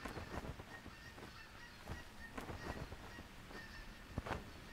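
Geese honking in the hunting game theHunter Classic, a scatter of sharp nasal calls from a flock at middle distance over steady wind-like ambience, with a louder honk near the end.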